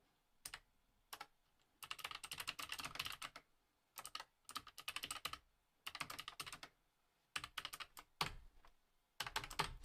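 Fingers type on a cramped Raspberry Pi 500+ keyboard in quick, clicky bursts of keystrokes separated by short pauses. The tapping is close but quiet, with no talking over it.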